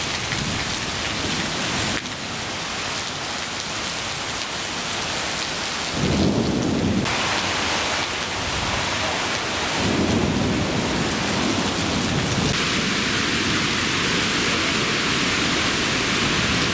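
Heavy unseasonal downpour with gusting wind during a thunderstorm in Solapur, a loud continuous roar of rain on surfaces, with deep rumbles of thunder swelling in the middle and no voices.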